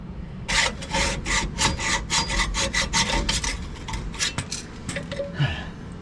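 Hand saw cutting through a steel bolt on a Jeep TJ lower control arm, with close, fast, repeated rasping strokes in a steady rhythm, loud and without talk.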